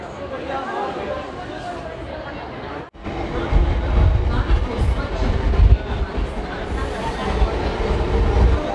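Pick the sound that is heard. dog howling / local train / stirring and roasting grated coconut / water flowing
local train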